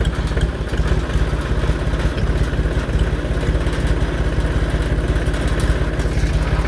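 A tractor engine runs on a farm, a close, steady rhythmic diesel chug with a slight clatter that holds a constant pace throughout, with no voices.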